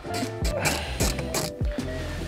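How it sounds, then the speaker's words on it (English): Socket set ratchet removing bolts on a Land Rover Defender, a close series of quick clicking ratchet strokes in a regular rhythm, loud and without talk. "So I'm just gonna use a socket set to remove those."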